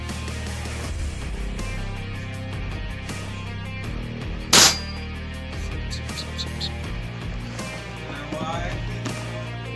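A single sharp, loud gunshot cracks out once midway through, over a steady droning background.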